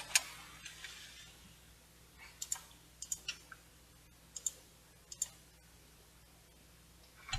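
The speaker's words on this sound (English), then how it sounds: "these are just tactile dome buttons" Small tactile dome buttons on a Handspring Visor Deluxe PDA being pressed during a teardown, giving a scattered series of faint, crisp clicks alone against a quiet background hiss.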